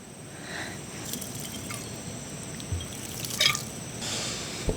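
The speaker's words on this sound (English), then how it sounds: "So let me just give it a quick rinse with one hand and my tap water." Tap water runs and drips over a donut peach as it is rinsed by hand, a steady close splashing stream with brief wet squishes and drips, no talking.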